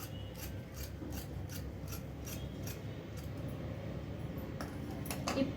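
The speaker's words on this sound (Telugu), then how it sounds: "రెండించుల క్లాత్ని ఈ విధంగా స్ట్రైట్గా కటింగ్ చేసుకోవాలి" Scissors cutting a straight two-inch strip of cloth for a blouse, a faint steady run of rhythmic snipping and rasping close by over a low background hum.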